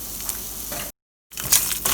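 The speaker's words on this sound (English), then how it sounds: "keep it low to medium flame so that it doesn't get burnt, and let us start frying it" Spices for South Indian sambar fry over a low to medium flame, giving a steady close sizzle broken by a brief silent gap.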